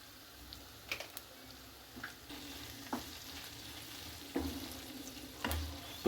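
Brinjal curry with turmeric and salt is stirred in a pan, giving a soft, low sizzle broken by scattered clicks and scrapes of the spoon against the pan, close but quiet, with no talking.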